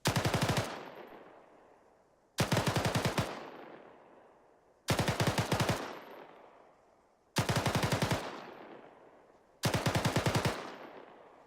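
Five bursts of automatic rifle fire at a center-effective rate in Arma 3, each a tight string of shots roughly two and a half seconds apart, loud and close, with a rolling echo tailing off after each burst.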